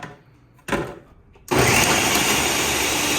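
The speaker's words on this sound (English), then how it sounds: "Alright, we just blended up onions and jalapenos, turned them into a puree" A blender purees onions and jalapenos for seekh kabobs: a brief whir and a clunk first, then the motor starts and runs loud and steady at high speed up close, without any talking.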